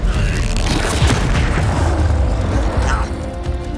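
Confringo blasting spell explosions in Hogwarts Legacy, a loud, booming burst with rumbling crashes and debris that sustains for several seconds before tapering off.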